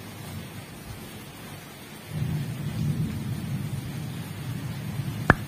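Steady rain falls outdoors, a dense hiss that swells louder midway, with a sharp crack of thunder near the end; no voices.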